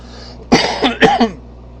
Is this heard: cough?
yes